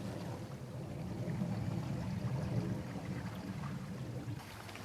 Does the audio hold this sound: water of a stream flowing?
yes